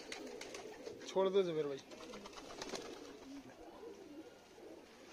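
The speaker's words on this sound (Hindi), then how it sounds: "दोनों परीन कबूतर हैं" Pigeons of a fancy paired breed coo briefly near the start, a short warbling burst among handling noises, while someone talks over and around it.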